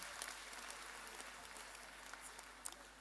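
Audience at a youth empowerment summit clapping for themselves, faint continuous applause with a few sharper claps, fairly distant and thin.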